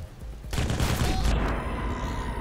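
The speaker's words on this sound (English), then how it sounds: "I'm taking him down with my pistol" Pistol fire in Watch Dogs, a sudden burst of sharp gunshots that rings out loudly, then a brief echoing tail.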